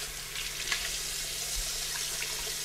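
Apples for homemade applesauce being rinsed under running water at a sink, with a steady close hiss of flowing water and a few faint splashes.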